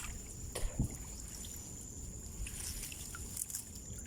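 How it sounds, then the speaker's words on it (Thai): Flowing water runs steadily, a soft continuous wash with a few faint knocks and splashes, moderately close and quiet, with no talking. "น้ำไหลครับ"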